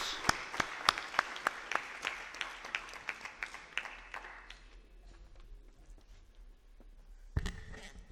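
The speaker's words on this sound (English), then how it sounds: "Give him a good round of applause." A summit audience at an awards and valedictory session applauds as a speaker is invited up. Sharp, spaced claps at first thin out and fade, then a brief clatter comes near the end.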